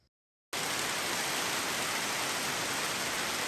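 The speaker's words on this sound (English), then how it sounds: "It's raining pretty hard right now." Heavy rain pouring down outdoors, a dense, steady hiss that starts abruptly and continues loud and unbroken to the end.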